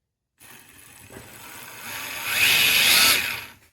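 The electric motor of a Tamiya Volkswagen Golf Mk 1 RC car on an M05 chassis whines up through the speed controller, rising steadily in pitch and loudness before cutting off, heard alone and close.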